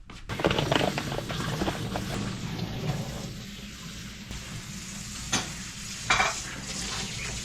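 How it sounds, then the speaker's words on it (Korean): Running water and clinking dishes nearby, with stirring and scraping sounds and occasional sharper clatters, steady throughout. "옆에서 지금 물소리가 들렸죠. 와이프가 설거지하고 있었습니다."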